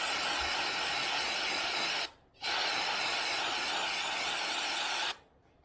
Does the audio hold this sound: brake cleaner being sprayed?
yes